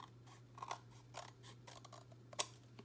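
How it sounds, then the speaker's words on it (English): Scissors snip through paper in a quiet room, several separate crisp cuts spaced irregularly and close by, with one sharper, louder snip near the end. "I can cut straighter with my larger scissors than I can with my smaller ones"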